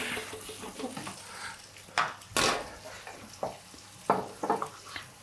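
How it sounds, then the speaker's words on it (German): Chicken and prawn skewers hitting a hot pan, with stirring, clinks of pans and bursts of sizzle in uneven pulses, close and moderately loud, no talk. "Die Spieße, ich fange jetzt an zum Anbraten."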